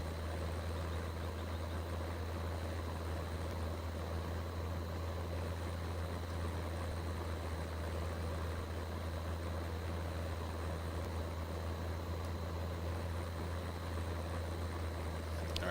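A tractor engine idles and runs steadily in Farming Simulator 15, a continuous low rumbling drone with a constant hum, fairly quiet and unchanging throughout.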